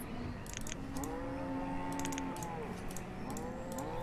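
Frisian cows in the colonial village-building video game Banished moo in several long, drawn-out calls, some overlapping, over a steady ambient background with light clicking.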